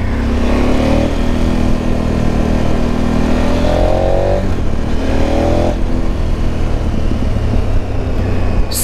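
A KTM 1290 Super Adventure motorcycle engine with aftermarket exhaust revs hard and loud nearby, pitch climbing through repeated rising pulls with a raw, throaty exhaust roar.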